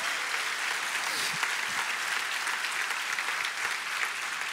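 Church congregation breaking into sustained applause, a dense continuous wash of many hands clapping at moderate loudness, steady throughout.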